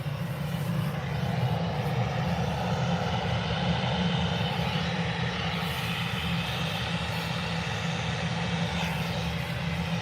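An easyJet airliner comes in to land at Birmingham airport, its engines a steady, continuous roar held at a moderate distance, with no voices.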